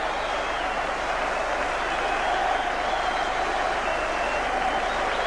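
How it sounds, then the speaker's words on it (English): Liverpool fans applauding at a Villa Park football match in 1988, a dense, continuous roar of clapping and crowd noise spread across the whole stadium, with a commentator's voice running over it. "the rapturous applause of the Liverpool fans"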